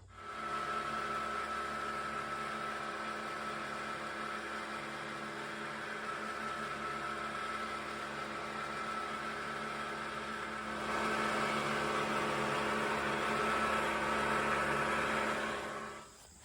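A Farm King 60-inch finish mower runs steadily, its engine drone and whirring blades holding an even mid-pitched hum, swelling slightly louder partway through before cutting off at the end, with no voices.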